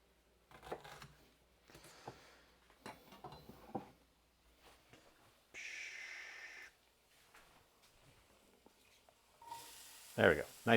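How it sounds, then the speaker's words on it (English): Finely minced onion hitting a hot pan, a loud bright sizzle that bursts in around the middle and again at the end, amid scattered kitchen clatter and utensil knocks. "Nice loud sizzle,"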